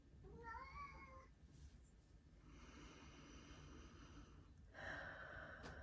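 A cat gives a single clear meow at the start in a quiet indoor room, followed by soft breathy, snorting sounds and low room noise.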